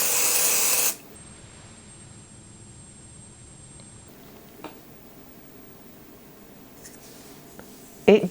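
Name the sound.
Jet Set Invisible Powder Spray being sprayed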